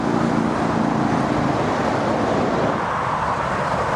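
Constant roar of M4 motorway traffic heard from a nearby countryside walk, a loud, unbroken wash of tyre and engine noise with no distinct passes and no voices.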